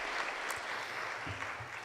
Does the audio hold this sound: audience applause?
yes